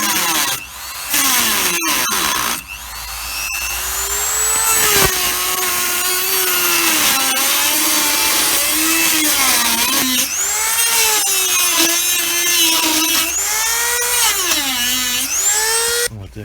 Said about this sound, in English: So we'll see how well this cuts with my trusty Dremel.